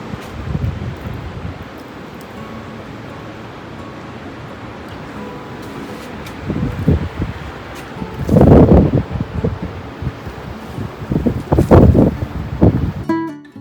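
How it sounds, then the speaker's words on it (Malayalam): Strong wind during the first snow of winter in New Jersey, blowing steadily and swelling into several loud, rumbling gusts against the microphone in the second half, with no voices. "ഇത് നല്ല കാറ്റോടു കൂടിയാണ് കേട്ടോ ഉണ്ടായിരുന്നത്. നല്ല കാറ്റായിരുന്നു."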